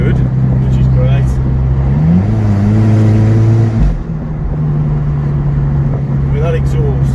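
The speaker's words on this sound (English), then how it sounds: "That exhaust makes all the right yes, sense. It does. It definitely got a nice little burble to it." A Fiat Coupe's engine revs up and settles back, its exhaust giving a deep, rumbling burble that rises and falls in pitch, loud and close, with people talking over it.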